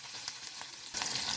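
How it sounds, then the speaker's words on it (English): Tempering sizzles and splutters in hot oil as green chili goes into the pan for pappu charu. The close, crackling fry swells noticeably louder partway through. "Once they start spluttering, add in green chili."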